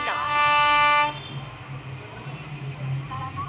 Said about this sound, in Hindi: तो हॉर्न बजाते हैं, डिपार्ट